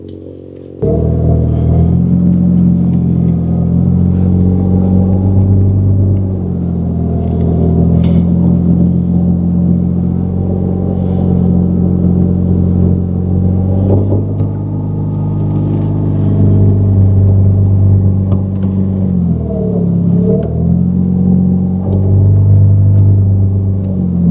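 A 1200 hp Toyota Supra engine runs loud and steady from start to finish, a deep rumbling idle with a few slight rises and dips in revs and one brief blip near the end, with no talking.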